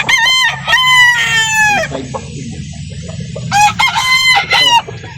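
Roosters at a chicken breeder's yard in Calauan, Laguna crow loudly and close by, two long ringing crows separated by a stretch of clucking and low farmyard background.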